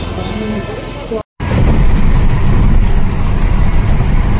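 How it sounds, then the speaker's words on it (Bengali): Highway traffic rumbling past nearby, a loud broadband roar of vehicle engines that cuts out briefly, then returns steady and heavy. "এটা হচ্ছে হাইওয়ে।"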